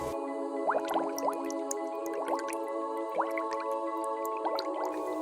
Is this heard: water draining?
yes